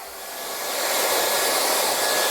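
A handheld hairdryer blowing on hair at the back of the head, a continuous airy whoosh that swells slightly louder in the first second and then holds steady, close and alone.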